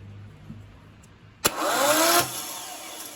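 BMW M44 engine fitted in an E30 rally car being cranked: after a quiet moment, a sharp click gives way to a loud whirring starter drone for under a second, then it cuts off abruptly.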